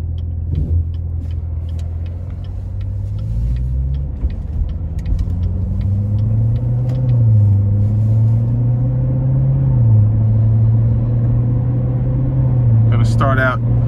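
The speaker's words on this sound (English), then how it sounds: "next we're gonna take this Z06 out on the streets for a quick test drive" Engine of a 2019 Chevrolet Corvette Z06 on a street test drive, a steady deep low rumble with gentle rises and falls in pitch as it pulls away slowly, continuous and close throughout.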